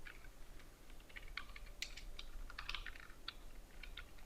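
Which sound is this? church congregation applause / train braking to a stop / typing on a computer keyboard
typing on a computer keyboard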